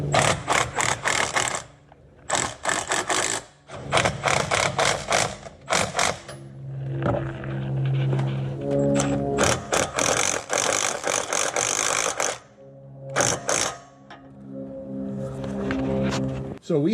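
Bolts being tightened on a Jeep's FOX Factory Race Series 2.0 ATS steering stabilizer, with bursts of quick ratchet clicking in several separate runs, separated by pauses and talk, close and fairly loud.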